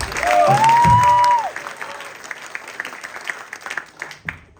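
Audience clapping and cheering for a band member at a spring student band showcase, a loud burst with a whistle in the first second and a half, then thinning into scattered claps that fade out.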